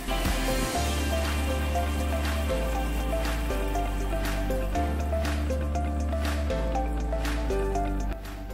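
Thin second-press coconut milk poured into an Alappuzha-style mackerel fish curry as it simmers in the pan, a steady wet squishing and dripping pour running continuously under a background of tonal music.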